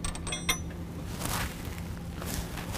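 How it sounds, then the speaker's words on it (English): Metal washers are slipped onto the bolts of a grille guard bracket on a 2017 Ford F-250 Super Duty, giving small close clinks and light metallic scrapes, with one brighter tap near the start. "we're going to use a washer on the other side on both bolts"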